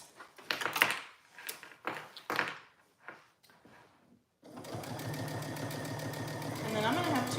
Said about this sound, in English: Sewing on my bias tape to this little dress